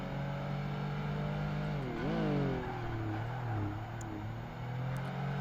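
A Mitsubishi 3000 GT racing in Project Gotham Racing 2 on a tight track, its engine droning steadily and swooping up and down in pitch as it revs through gear changes, loud and continuous with no talk.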